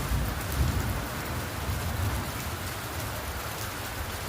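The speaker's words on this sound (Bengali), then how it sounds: "প্রচণ্ড বৃষ্টি হচ্ছে।" A heavy downpour drums on surfaces nearby, a constant loud patter with no pauses and no voices over it.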